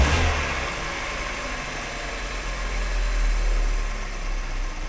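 A modern car engine running at a somewhat high idle with a faulty idle, a steady close rumble that swells gently as it revs slightly and then settles back.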